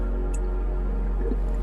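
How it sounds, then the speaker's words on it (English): A thick fruit smoothie pours steadily into a liter container, a continuous wet, dripping flow with a faint squish partway through. "So if we pour this smoothie"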